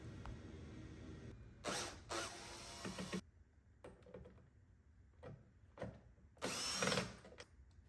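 Intermittent whirring bursts of a power screwdriver backing out a screw with a washer from a C3 Corvette hood latch assembly, with short mechanical clicks and pauses between runs.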